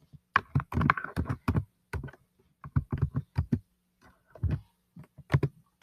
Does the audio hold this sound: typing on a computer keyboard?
yes